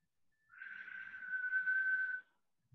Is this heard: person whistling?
yes